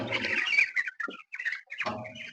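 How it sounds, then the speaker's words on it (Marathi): Chickens in a poultry shed on a farm chirping and calling in short overlapping bursts, close by, with brief pauses between clusters of calls. "आपला पोल्ट्री फार्म आहे हा तर याच्यामध्ये पक्षी आहेत"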